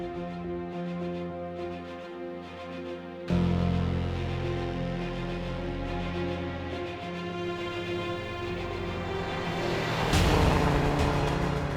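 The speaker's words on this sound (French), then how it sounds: "Le son de ce petit 4 cylindres boxer aluminium de 1600 cm3 double allumage Twin Spark est vraiment caractéristique." An Alfa Romeo Giulia TZ's 1600 cc aluminium four-cylinder boxer engine with Twin Spark ignition drones at the Spa-Classic 2019 race meeting, a fairly faint, steady note that steps up in intensity partway through and swells again near the end.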